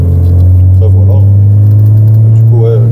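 Renault Clio 4 RS Trophy, 220 hp, with its engine giving a loud, steady low drone close by while someone speaks over it.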